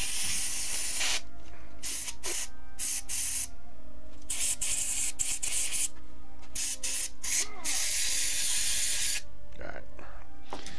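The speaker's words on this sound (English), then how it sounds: "Let me get some can spray into the..." Compressed air from a can blasts into a computer mouse in several sharp, loud hissing bursts of varying length, separated by short pauses, with quiet background noise between sprays.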